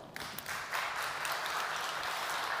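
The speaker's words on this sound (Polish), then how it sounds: "Brawa, jeszcze raz." An audience at a business awards gala bursts into applause, a dense steady wash of many hands clapping that swells after a brief start and keeps going.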